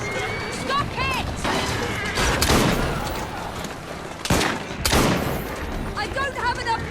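Gunfire in Assassin's Creed Syndicate crackles in sharp bursts, with several loud shots and a few closely spaced volleys amid clashes and shouting voices in a chaotic fight.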